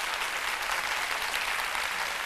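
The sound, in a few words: audience applause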